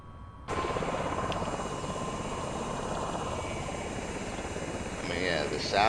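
A V-22 Osprey tiltrotor taxiing toward the runway in a flight simulator, its steady engine and rotor drone droning loud and continuous throughout, with a faint voice speaking now and then.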